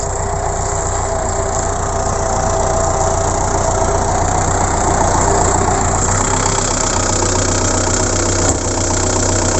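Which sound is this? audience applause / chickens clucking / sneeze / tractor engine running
tractor engine running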